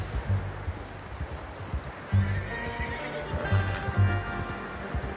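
A horse whinnies loudly a few times over the steady beat of hooves, with bits of speech in between.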